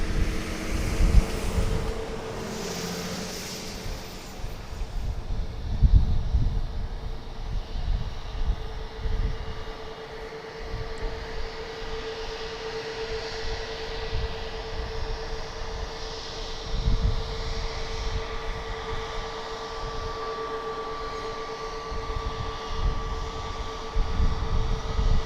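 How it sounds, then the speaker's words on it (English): An American Airlines jet airliner at DFW Airport gives off a sustained engine rumble with a steady whine, fluctuating in loudness as it moves, with no talking over it. "here comes American Flight 520 going to Phoenix"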